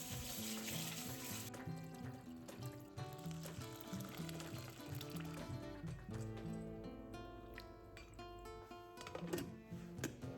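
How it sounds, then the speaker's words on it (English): Sticky rice is washed under a running tap, a steady stream of water splashing and trickling over the grains, with faint clinks and rattles from handling in the sink. "I love eating this with steamed sticky rice, so I start by washing and soaking it."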